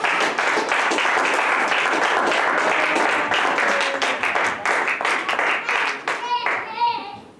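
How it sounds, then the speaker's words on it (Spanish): Church congregation applauding during a service, a steady full round of clapping that thins out toward the end as voices, including a child's, rise over it. "Denle un aplauso al Señor."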